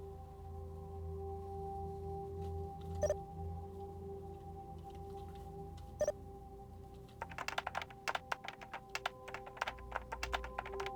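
Keyboard typing inside the game Vampire the Masquerade Bloodlines, a burst of quick clicks after about seven seconds with two single taps earlier, heard over steady game ambience and humming tones.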